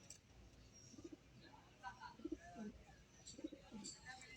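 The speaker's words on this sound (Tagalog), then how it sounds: "Kunting update lang tayo sa mga kalapate natin." Pigeons coo softly in a loft with low, repeated throaty calls. A voice speaks faintly underneath, and a few light chirps are mixed in.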